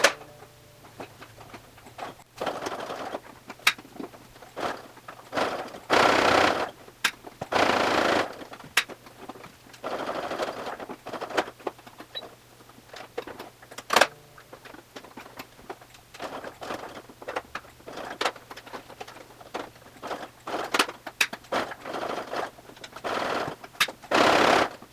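A sewing machine stitching the gusset of a fabric waist bag, with rapid mechanical clatter in long runs broken by brief pauses and a steady low hum underneath.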